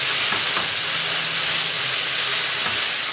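Vegetables and spices fry in olive oil in a pot, giving a steady, close sizzle and hiss that carries on without a break.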